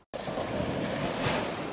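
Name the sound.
ocean waves breaking on a beach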